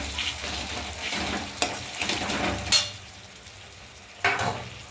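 Tomatoes sautéing in oil and spices over a low flame in a pan for a pabda fish curry, a steady sizzle broken by a few sharp scrapes and clinks of a utensil stirring against the pan.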